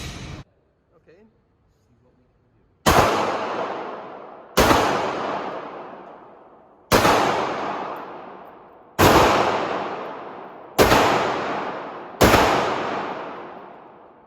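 Walther P99 AS pistol fired at an outdoor shooting range: six loud, sharp shots spaced about two seconds apart, each with a long echoing decay, after a brief quiet start.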